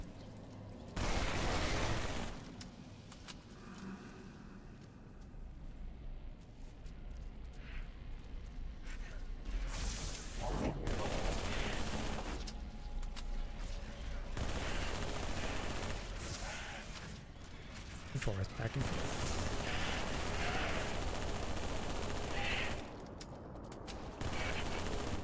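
SMG gunfire in the video game Halo, a dense, loud, nearly continuous automatic rattle lasting most of the stretch, with short breaks and a few booms mixed in.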